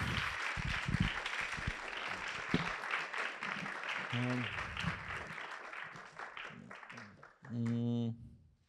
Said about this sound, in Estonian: Ja selle sama jätku aplausi saatel ilmub lavale Risto Sofie Käär.